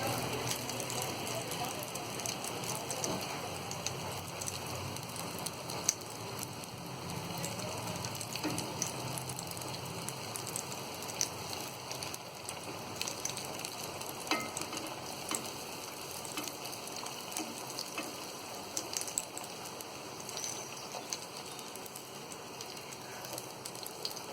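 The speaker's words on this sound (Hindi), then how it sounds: "इसे हम बड़े सावधानी से इस तरीके से तलेंगे।" Mutton kebabs fry in moderately hot oil for a burger, giving a steady, even sizzle with soft crackles throughout, close but fairly quiet and with no talking.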